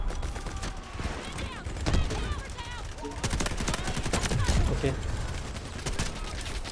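Rapid bursts from a Bizon submachine gun in the Delta Force shooter, loud and close, with sustained automatic fire and scattered impacts running through most of the stretch while a voice talks over it.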